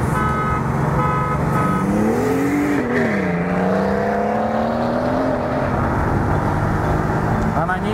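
A Mercedes-AMG GT S with the gas pedal floored, its engine note rising in a loud, steady climb and dipping once before climbing again, with a voice talking over it throughout.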